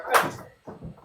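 A back door swings open with a short latch click and creak, then scuffing, footsteps and a faint bump follow as the dog is let out, close and moderately loud.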